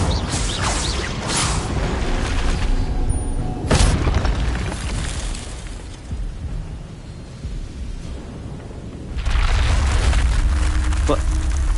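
A fire spell cast in a Harry Potter video game flares with booming, crackling bursts, one sharp flare midway and a louder sustained roar near the end, over a continuous game soundtrack.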